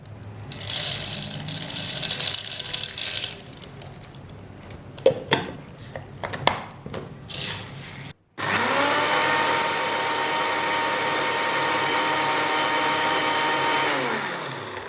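An electric grinder pulverises whole spices for tikka masala powder. First come a few clicks and rattles as the grinder is set up, then a loud, steady whirring roar runs for several seconds before winding down.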